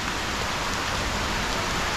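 Steady, dense rainfall patters continuously on a surface, a close hiss with no pauses and no voices.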